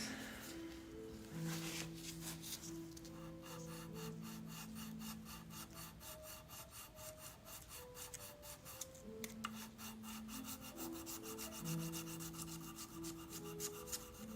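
Steady rubbing and rasping of a cedar wood chicken lock being polished by hand, close and continuous, with faint musical tones running underneath throughout.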